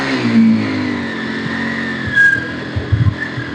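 A motorbike engine revs hard as it climbs an uphill road, a steady throaty drone with a few louder surges of throttle toward the end, close by with no talk.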